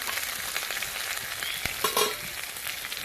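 Mahashol fish pieces, a large river fish, are laid one by one onto masala in a pan over a very low flame. A steady, close sizzle continues throughout, with a brief clink of a utensil partway through.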